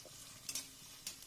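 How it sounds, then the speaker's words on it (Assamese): Ginger garlic paste fries with browned onions in a pan, a soft steady sizzle with a few stirring scrapes, heard quietly and without talk. "এয়া এতিয়া আদা নহৰু কেঁচা গোন্ধটো যোৱালৈকে মই ভাজি ল'ম।"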